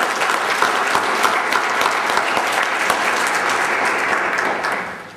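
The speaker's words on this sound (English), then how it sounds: "you should all give yourselves a great round of applause for our work" A conference audience at a Florida ONE gathering claps steadily and fully, a thick, even wash of applause that holds for several seconds before tapering at the end.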